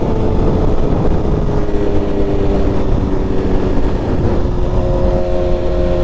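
A 2023 BMW S1000RR tuned with a BT Moto Stage 2 E85 setup roars at high speed, a loud, continuous engine drone with rising harmonic tones near the end, heavy wind rush underneath, and no speech.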